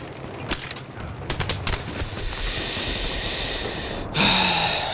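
An M249 machine gun fires in Battlefield 3 in a few quick bursts of sharp shots early on, followed by a steady noisy backdrop with a higher tone and a swelling rush near the end.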